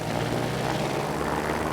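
A small propeller plane in the video game Trailmakers gives a steady, loud engine drone with a buzzing hum that holds even and continuous, with no talk.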